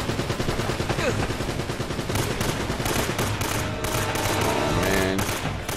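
Rapid gunfire from the PS3 game Uncharted: Drake's Fortune rattles almost without pause in dense automatic bursts and single shots, loud and close, with voices under it.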